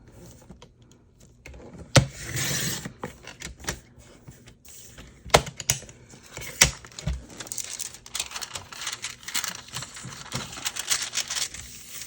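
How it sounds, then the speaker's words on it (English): A paper junk-mail envelope being sliced open along its side, giving a few sharp scraping cuts and paper rustles, close and fairly quiet, with small clicks and handling noises throughout. "going to slice open the other side of this envelope"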